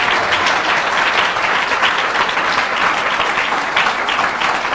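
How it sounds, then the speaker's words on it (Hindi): An audience claps hard and fast in sustained, dense applause that stays loud and even from start to finish, with no one speaking over it. "If you want to clap very strong."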